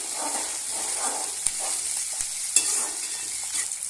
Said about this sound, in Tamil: தக்காளி பழத்தையும் சேர்த்து நல்லா வதக்கிக்கலாம்